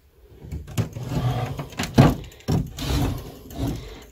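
Dresser drawers slide open and shut several times as folded clothes are put away, giving a run of close rumbling glides ending in dull knocks and thumps.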